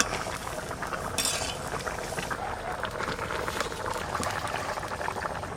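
Sea fish curry bubbling in a pan, a continuous close simmering gurgle with a short clink of utensils near the start, no voices.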